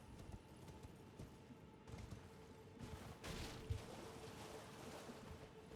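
Horse hooves clip-clop in a fantasy video game, a quiet, steady run of soft footfalls over low background ambience, with no voices present.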